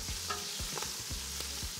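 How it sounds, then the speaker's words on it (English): Steady close sizzling of root vegetables deep frying in hot oil, with soft stirring scrapes every fraction of a second. "Now it's already deep frying."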